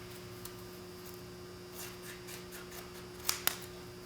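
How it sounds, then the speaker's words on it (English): Quiet snipping of scissors through a thin decal sheet for a Honda CT70, a few soft cuts followed by two sharper, crisp snips near the end. "we're going to take a scissors and we're going to cut it right down the middle"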